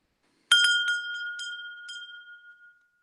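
A crystal bell rings out clear and close, several quick strikes in the first half-second blending into a long, bright sustained tone that slowly fades over a couple of seconds, with no voices.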